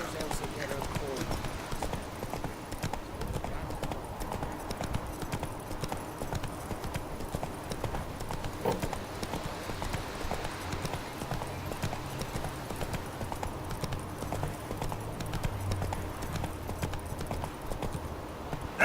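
Roach, the horse in The Witcher 3, trots with a steady, continuous clip-clop of hooves for the whole stretch, with game sounds and voices talking over it.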